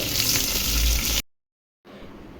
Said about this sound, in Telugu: ఇప్పుడు ఉల్లిపాయ ముక్కలు వేసుకోవాలి, అలాగే పచ్చిమిర్చి చీలికలు వేసుకోవాలి